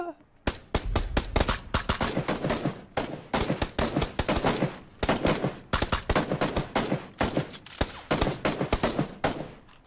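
Rapid bursts of rifle gunfire crack repeatedly in a PUBG battle royale match, loud and close, with short pauses between volleys and no talking.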